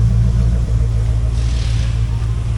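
A 1990 Corvette C4 with an L98 engine idles steadily with a deep, constant low rumble and a faint hiss, running alone without any voices.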